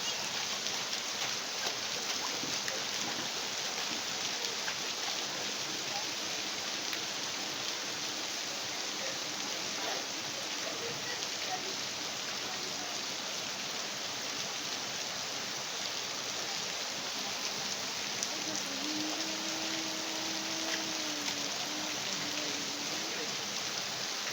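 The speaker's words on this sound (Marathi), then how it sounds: "एवढा पाऊस आहे" Heavy rain falls in a constant, fairly quiet hiss that stays even throughout, with a faint passing tone near the end.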